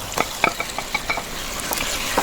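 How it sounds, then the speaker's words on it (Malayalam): Cooked beef being stirred into frying masala in a pan for a mixed biryani, with a steady sizzle and repeated scraping clicks of a spoon against the pan, close and fairly loud. "എന്നിട്ട് വീണ്ടും നല്ലോണം ഇളക്കുക"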